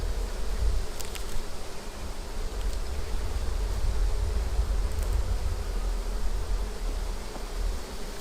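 Honeybees buzzing around a hive frame during an inspection, a dense, steady drone of many bees close by, with a few faint clicks over it.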